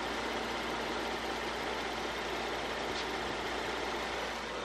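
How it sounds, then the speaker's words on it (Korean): A gasoline V6 in a low-mileage Hyundai Grandeur Calligraphy idles steadily with a smooth, even hum and a faint low rumble, close and continuous with no voices. "바로 엔진 소리 한번 들려 드릴게요."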